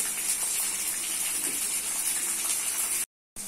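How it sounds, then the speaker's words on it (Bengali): Small bitter eggplants frying in hot soybean oil, a steady loud hiss and sizzle filling the clip before cutting off abruptly near the end. "দিচ্ছি ছোট তেতো বেগুন ভেজে নিতে হবে তেলে"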